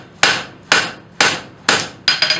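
Hammer blows forging a railroad bolt on an anvil, five sharp ringing strikes at an even pace, then a quick double tap at the end, loud and close with no talk.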